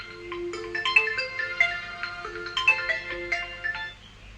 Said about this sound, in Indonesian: Ini ada yang telepon.